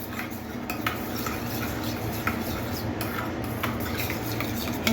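Mayonnaise and tomato sauce being mixed with a spoon in a bowl, a continuous wet stirring with light, repeated spoon clinks against the dish, close and without talk.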